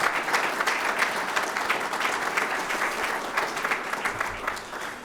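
An audience at a Cleveland broadband press conference gives a sustained round of applause, dense and steady throughout and easing slightly near the end.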